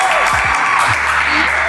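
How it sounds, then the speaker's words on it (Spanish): A youth church gathering applauds as pastors are welcomed, loud continuous clapping from a crowd that fills the short moment with a faint voice beneath it. "Aplausos, por favor."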